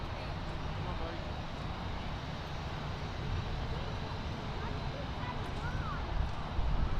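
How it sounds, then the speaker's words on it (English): A Turkish airliner departs Miami International Airport in a steady, broad jet roar that holds evenly throughout and swells slightly near the end, with light wind noise over it. "That Turkish departure sure was a really nice turn and burn"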